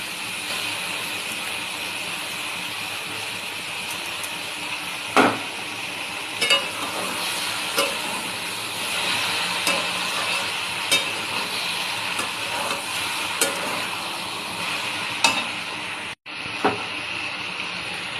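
Spices frying with young jackfruit in a pan, a steady close sizzle and hiss with scattered stirring clicks and scrapes throughout, no talking.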